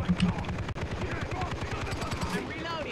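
Rapid, continuous turret machine-gun fire in the co-op shooter game Far Cry 3 rattles on loud and close through the whole stretch, with faint voices underneath.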